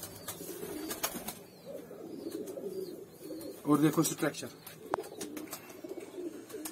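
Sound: pigeons cooing

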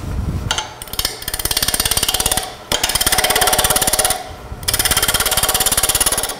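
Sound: wood lathe turning a toy top

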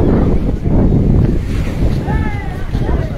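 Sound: sea waves surging over the guard wall at Digha beach

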